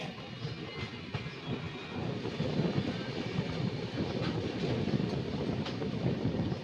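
Kirandul Express pulling out of Darlipur station in the monsoon, a low steady rumble of the moving coaches building gradually with faint clicks and rattles, heard from inside the train without talk.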